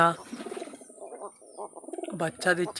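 Several pigeons on a pigeon farm coo close by in soft, throaty, rolling calls that overlap and continue steadily, with a few brighter chirps near the end.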